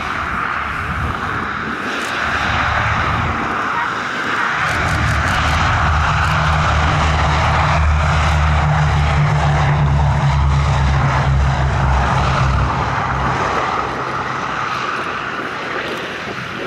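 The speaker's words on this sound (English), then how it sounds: "tribute to them is paid by this airworthy example, Boeing B-17G Flying Fortress Sally B" Boeing B-17G Flying Fortress four-engine piston bomber flying past at an airshow, its propeller engines droning loudly in a long sustained roar that swells and then eases off, with no voices over it.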